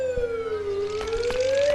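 An ambulance siren in a video game wails loudly and continuously, its pitch sliding down and back up, with faint thumps and game noises underneath.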